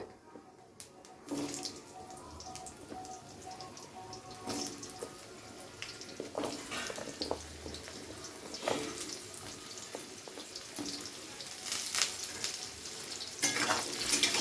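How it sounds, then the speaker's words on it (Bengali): Diced potatoes fry lightly in hot oil with black cumin (kalo jeere) for a prawn and winter vegetable curry, a steady close crackling sizzle with scattered clinks of stirring throughout. "আলুটাকে প্রথমে হালকা করে ভেজে নেব"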